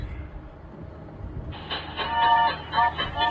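Card-reading talking device plays a train sound effect after a card is inserted, a short rumbling, clattering railway clip starting abruptly and growing louder, with no speech over it.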